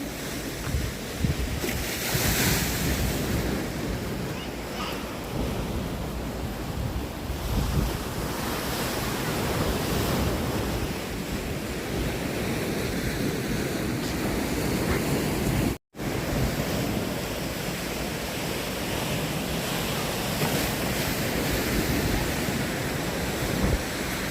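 Sea waves washing ashore at the beach in Hua Hin, a continuous broad rushing surf mixed with strong wind buffeting the microphone, steady and loud without a break.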